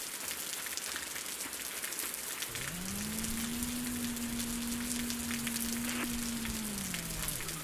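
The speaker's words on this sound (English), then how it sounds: "Oh, and the rain has just stopped." Steady rain hissing down in the video game Osiris: New Dawn, a constant soft patter throughout, with a low sustained tone joining partway through.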